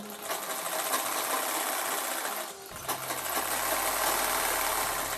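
A sewing machine stitches blouse lining fabric with a continuous, close mechanical whir that breaks off briefly midway, then resumes at full speed.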